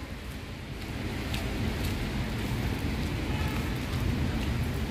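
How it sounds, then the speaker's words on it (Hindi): Steady rain falls outdoors on a trip through the Uttarakhand hills, a dense even hiss that holds at a constant moderate level throughout without talk. "बारिश आ रही है बहुत अच्छी,"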